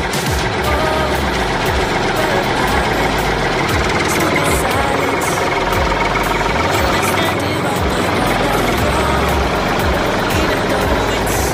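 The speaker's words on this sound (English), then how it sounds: "Tractor." A tractor engine runs steadily and loudly throughout, a dense continuous rumble with rough low-end vibration that never lets up.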